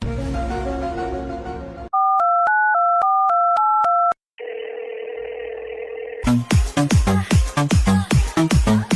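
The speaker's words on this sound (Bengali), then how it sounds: "চাই অপ্সরাদেবকে ফোন করি" Telephone sounds while a call is placed: a musical jingle, then a run of beeping keypad tones, a steady dial tone after a short gap, and finally a rapid sequence of plucked notes, all loud and clean with no speech.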